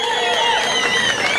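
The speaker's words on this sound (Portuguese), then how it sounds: "aplauso do público." Audience at a gospel festival on Evangelical Day in Alta Floresta responds with a dense, steady wash of crowd noise and cheering, loud and continuous throughout.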